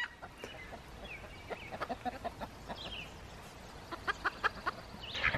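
Chickens cluck and chatter in quick bursts, with faint higher calls mixed in, moderately distant against a soft outdoor background.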